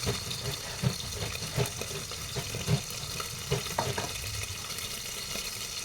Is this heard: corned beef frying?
yes